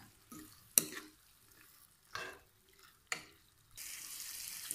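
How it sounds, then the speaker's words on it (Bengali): Masala pasta with soy sauce gets stirred in a pan in a few distinct scraping, sizzling strokes spaced about a second apart, ending in a brief steady hiss. "এখন আমি সবগুলোকে ভালো মতো মিক্স করে নেব"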